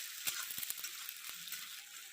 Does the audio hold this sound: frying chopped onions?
yes